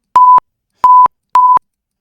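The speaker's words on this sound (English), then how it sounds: "I need my beeper, Amber. Beep, beep. So we can say when we start and stop video stuff. Or just censor you." A censor beep sound effect sounds three times: short, steady, high-pitched tones evenly spaced with silence between them, loud and clean.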